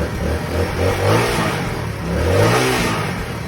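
A Honda Sonic motorcycle engine is revved in repeated throttle blips, the pitch rising and falling in about three close, loud surges over a steady idle, with no talking.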